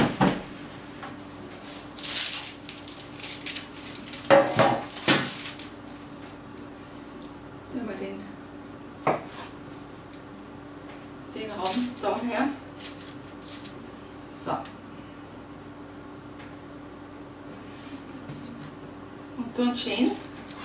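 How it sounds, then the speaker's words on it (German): A sharp knife cuts through rolled nut snail dough against a board in short scraping and tapping strokes spread irregularly through the stretch, with a person talking over the cutting. "Dann nehmen wir ein scharfes Messer."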